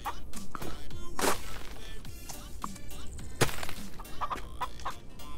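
Chickens in a farm video game cluck in a string of short, sharp, separate bursts at close range, with no talking over them.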